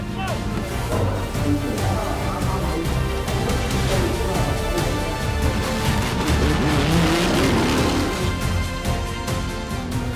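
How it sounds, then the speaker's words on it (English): WRT race car rolling again after a crash during a red-flagged race: a loud, continuous engine roar with shifting revs and tyre noise runs throughout, dense and close, with some voice-like sound mixed in. "The WRT mechanics managed to get Mr. Macau's car rolling again."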